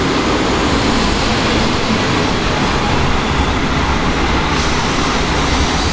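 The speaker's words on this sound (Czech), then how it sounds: "přijede vlak" A train pulls in near a skatepark in Chrudim with a loud, continuous rumble and roar that stays steady throughout, with no voices over it.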